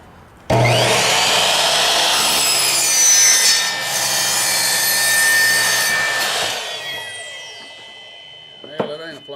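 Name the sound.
power saw cutting plywood with the wrong blade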